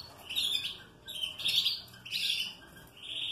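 A red-factor pedigree canary hen chirping in a breeding aviary, repeated bright high tweets in short bursts, close and clear with no talking.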